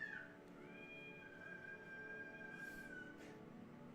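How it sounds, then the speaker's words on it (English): A cat meows unhappily in one long, drawn-out wavering cry lasting several seconds, heard indoors at moderate distance over a steady background hum, with no talking. "Oh, some cat's not very happy."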